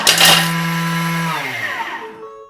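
A Thermomix runs at speed 10 grinding Parmesan cheese, starting with a loud chunky rattle of pieces against the blades, then settling into a steady high whine as the cheese turns to powder, winding down at the end.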